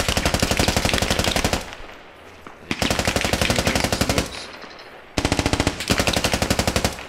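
Sustained automatic gunfire in the military shooter game Squad, loud and close, in long rapid bursts separated by short pauses.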